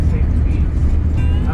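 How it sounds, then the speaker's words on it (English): A tour bus in Icy Strait Point, Alaska gives a deep, constant engine rumble close by, with a guide's voice talking over it. "So we're on the bus now, driving somewhere, listening to the guide."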